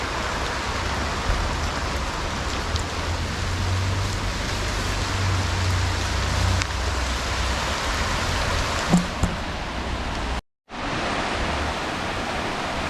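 Steady, heavy rain hissing continuously on the Appalachian Trail beside a river, close and loud, with a brief dropout near the end before it resumes.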